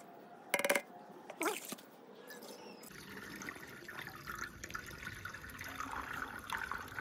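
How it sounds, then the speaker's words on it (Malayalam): Water is poured into a rusty Royal Enfield motorcycle petrol tank to clean it, making a continuous faint trickle and splash after a few brief knocks. "നമ്മളതിനിപ്പോൾ വെള്ളം ഒഴിച്ചുകൊണ്ടിരിക്കുന്നു"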